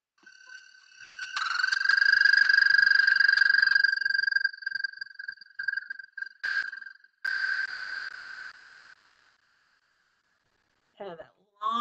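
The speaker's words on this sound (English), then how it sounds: "And here's what the American toad sounds like." An American toad gives a long, steady trill that swells loud and holds for several seconds, then breaks into shorter, fainter bursts. A brief voice appears at the very end.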